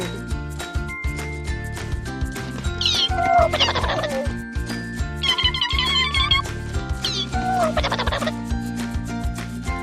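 Several bright, chirping bird calls come in short bursts over steady, loud background music in a children's alphabet lesson for the letter B. No one speaks.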